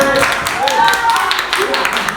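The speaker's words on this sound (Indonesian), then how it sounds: "Beri tepuk tangan." Classroom applause from students clapping during a school science lesson, brief and scattered claps mixed with voices and chatter.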